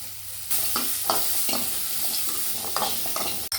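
Shallots, ginger and garlic sizzle in a hot pan as a spoon stirs them, scraping bursts recurring every half second or so over a steady close frying hiss, with no talk.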